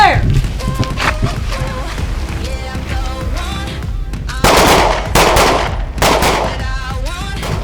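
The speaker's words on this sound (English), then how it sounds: "Take up the slack. Good follow through on every single shot. 2 rounds. Stand by. Fire." On an outdoor shooting range, two loud gunshots crack a moment apart, with voices talking before and around them.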